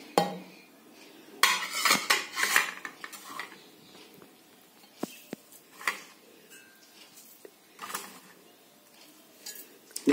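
Spices go into a metal pot for carrot kanji, heard as a run of close metallic clinks, taps and spoon scrapes at an uneven rhythm, loud at first and then sparser, with no talking.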